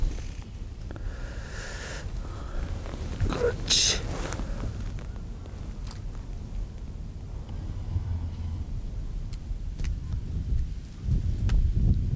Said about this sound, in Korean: 바람이 세지는데